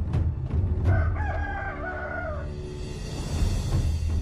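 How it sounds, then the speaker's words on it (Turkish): Roosters crow loudly and close by, one long cock-a-doodle-doo rising and falling over a couple of seconds, with chickens clucking and short calls scattered around it in a farmyard coop. "Bu horozları, tavukları da toplatsınlar buradan."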